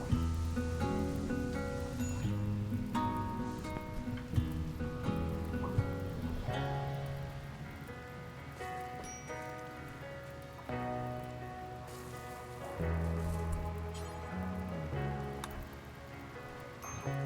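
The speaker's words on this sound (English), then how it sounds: "Oh, now the rain shows up." Rain in the video game RimWorld falls as a continuous soft hiss of drops beneath sustained background game music, steady throughout with no voices.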